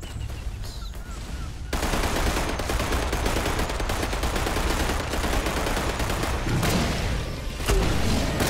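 Sustained assault rifle fire in Primal Carnage Extinction, a dense, loud barrage of rapid shots running almost continuously after a brief quieter opening.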